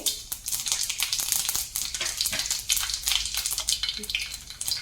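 Mustard seeds and cumin fry in hot oil, giving a dense, steady crackling sizzle with rapid popping that stays close and continuous throughout.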